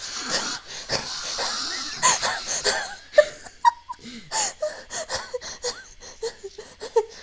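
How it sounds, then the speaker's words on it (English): Heavy breathing close to a noise-cancelling microphone during a Vtuber ASMR chat, with wheezy, gasping breaths in uneven bursts and brief pauses, intimate and near. "You just hear like heavy breathing."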